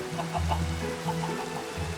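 A Minecraft chicken clucks in a short run of soft, quick clucks over a low background hum, with no talk.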